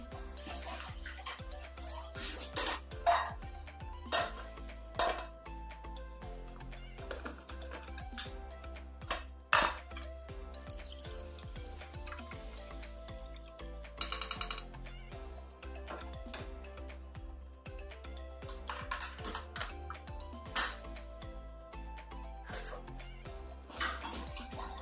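Cut bata fish, kohlrabi and flat beans being rinsed under running water in a home kitchen, with splashing and occasional light clinks running steadily through the clip beneath background music.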